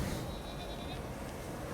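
A sheep bleats in the video game Tiny Tina's Wonderlands, a faint wavering call heard under a loud, dense bed of game noise.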